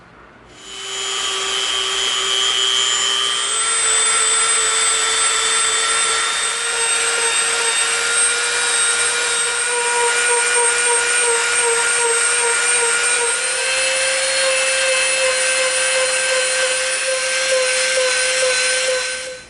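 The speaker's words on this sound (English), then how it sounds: "Now we'll come in with the Dremel and we'll clean this up." Dremel rotary tool grinding and smoothing the edge of an EVA foam helmet wing, a loud continuous high-pitched whine that starts abruptly, holds steady with slight pitch rises, then cuts off, close by with no voices.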